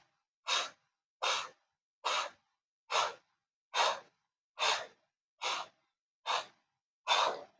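Someone exhales forcefully during a postnatal Pilates pulse exercise, blowing out in nine evenly spaced, breathy puffs close to the mic, with silence between each.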